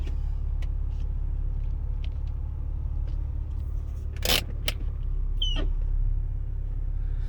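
A BMW E46 idles in drive with the e-brake on, a steady low engine rumble running throughout, with a few faint clicks and one brief scrape partway through.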